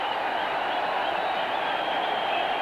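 A steady, broad roar of cheering and applause rises from a cricket stadium crowd in Delhi during a 1994 India versus New Zealand match, continuous and even throughout.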